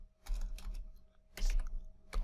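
Code being typed on a computer keyboard, quiet close key clicks in short bursts separated by brief pauses.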